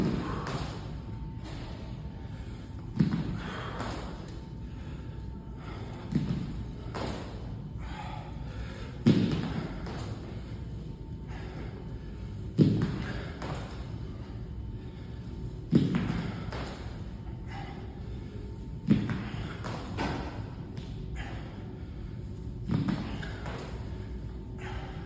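Weights dropped on the floor between plyometric reps, landing as a series of dull, spaced thuds roughly every three seconds, moderately close, with a quiet room in between.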